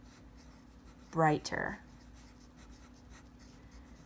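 A pen scratches softly across a page in a quiet room under a faint steady hum, and a voice briefly says a single word in the middle.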